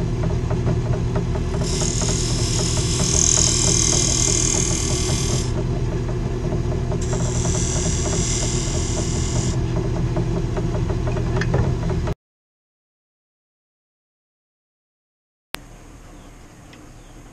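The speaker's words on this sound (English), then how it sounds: "just come in using my skew as a negative rake scraper" A wood lathe turning pine, with a skew used as a negative rake scraper against the spinning work, giving a steady droning hum with two stretches of brighter scraping hiss, then cutting off abruptly into silence.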